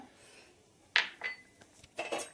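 Roasted peanuts tipped from a pan onto a plate, with a few sharp metallic clinks and scrapes in quick irregular bursts against a quiet background.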